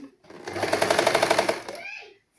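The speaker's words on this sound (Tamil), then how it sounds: "நாங்கள் மெதுவாக நாங்கள் எடுத்து நேராக்கி போட்டு தைக்க வேணும்" A sewing machine stitches a saree blouse sleeve in one short, close burst of rapid, evenly pulsing needle strokes that rises and then winds down, with silence on either side.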